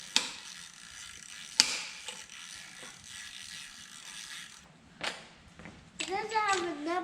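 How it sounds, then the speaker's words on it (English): Close ratchet clicking while loosening cylinder head bolts on a Subaru BRZ engine, bursts of rapid pawl clicks with pauses between strokes, a voice murmuring faintly underneath. "next we just have to get these cylinder head bolts out"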